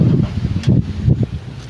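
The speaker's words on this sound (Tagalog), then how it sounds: "Ang lakas ng hangin dito." Strong outdoor wind ahead of a reported storm buffets the microphone in low, rumbling gusts that surge and ease every half second or so, loud and close with no other clear sound.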